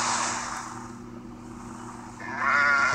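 Sheep bleat in a road-crossing video game, a short, fairly loud call rising near the end over a steady game background hum.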